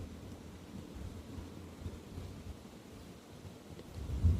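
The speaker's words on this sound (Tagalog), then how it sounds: "Medyo malakas yung hangin konti." Strong outdoor wind buffets the microphone while a DJI Mini 3 drone (2024 model) is flown over flat rice fields, a steady low rumble that swells into a louder gust at the end.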